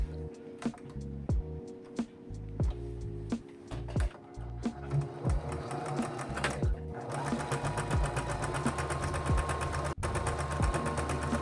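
A sewing machine stitches scrappy quilt squares with a steady, close, rapid whir that runs continuously for over ten seconds, with faint bumps and knocks of the fabric being handled.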